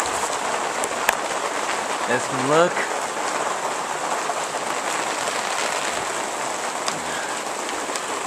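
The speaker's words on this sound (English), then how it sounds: "Alright, it's hailing outside." Steady patter of large hailstones hitting surfaces outside during a hailstorm, with a person speaking briefly nearby.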